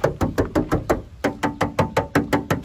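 Someone knocks and raps on the middle door of a 2005 Toyota-type Panther LM, giving a rapid run of about a dozen sharp metallic knocks, loud and close.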